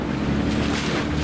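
River rapids and waves on the Chuna river, a steady loud rush of churning whitewater with wind buffeting the microphone, filling the short stretch without pause.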